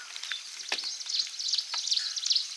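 Herbs sizzle and crackle in hot oil being cooked into a hair oil, with close, uneven bursts of popping and spitting over a bright frying hiss.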